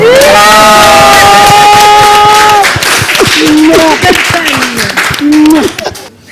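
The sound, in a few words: audience cheering and applauding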